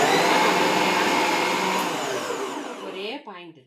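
A Preethi Zodiac food processor whirs loudly and steadily as it cuts onion, then spins down and slows to a stop near the end.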